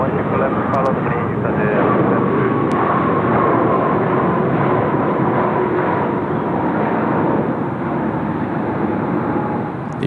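Airliner engines at Incheon Airport spool down toward idle, a loud, steady broadband roar that eases slightly over about ten seconds while a voice talks over it.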